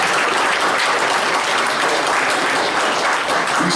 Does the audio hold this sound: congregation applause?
yes